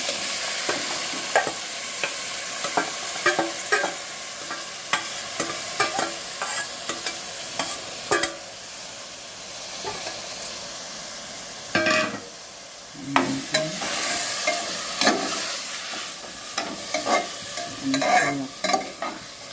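Chopped onion, crushed garlic and ginger frying on high heat in a pan, a steady sizzle broken by repeated scraping stirs from a spatula, close and fairly loud, with no talking.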